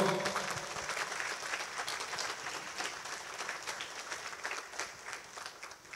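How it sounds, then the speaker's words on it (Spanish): Audience applause for guests of honour seated at a head table during an anniversary ceremony, sustained steady clapping from a crowd throughout, moderately loud with a brief voice at the start. "Para ellos un fuerte aplauso,"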